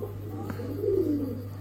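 A single short, low coo from an adult Andalusian pigeon sounds close by over a constant low electrical hum.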